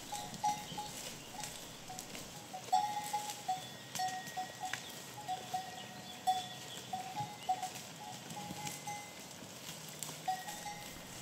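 Goats grazing in an agro-ecological pasture around holly and bramble, a clinking cowbell sounding irregularly with faint rustling, quiet and somewhat distant.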